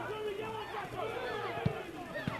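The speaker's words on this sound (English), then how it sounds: "You can hear the crowd saying he's on a yellow." Football crowd at a Caroline Springs George Cross versus Dandenong Thunder match, a dense steady roar of voices with scattered shouts and two sharp thuds standing out, commentary-level babble running throughout.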